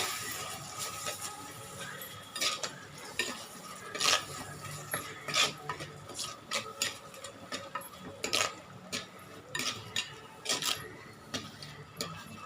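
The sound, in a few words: sautéing and stirring ground masala for crab curry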